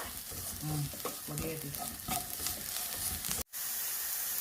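Spice powders stirred and roasted in a pan for a toddy-shop style Kerala chicken curry, making a close, soft sizzle broken by scraping stirs, with a brief cut to near silence before the frying resumes.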